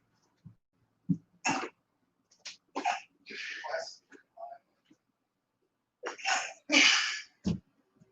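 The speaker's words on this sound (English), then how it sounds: "I had to sneeze." A person makes a few sharp, noisy sneezes and exhales, with breathy bursts separated by quiet pauses, close to the listener.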